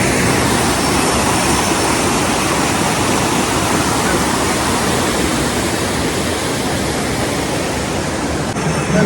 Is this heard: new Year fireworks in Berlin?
no